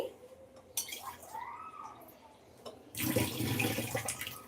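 Water splashes into a pot in a home kitchen for ginger rasam, a close gush lasting a couple of seconds after a few light clinks of utensils.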